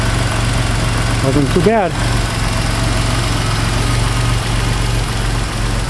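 Cold-started 3.0-litre V6 in a 1991 Chrysler LeBaron convertible idling steadily with a low, even hum, while someone talks briefly over it near the start.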